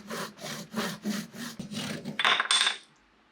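An old early-20th-century handsaw cuts through a wooden dowel in about six steady back-and-forth strokes, close and clear. A couple of quicker, brighter rasping strokes follow before the cut ends and the sound stops.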